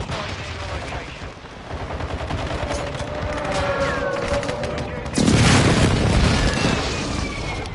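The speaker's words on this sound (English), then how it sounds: "Hostile airstrike near your location." Airstrike explosions and gunfire in Modern Warfare 2, a dense rumble of distant blasts and rattling shots building up, then a loud close boom at about five seconds that keeps roaring, with faint game voice over it.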